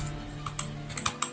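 Computer keyboard keys tap out an address in a quick, light run of a few clicks, close and fairly quiet over a soft background hum.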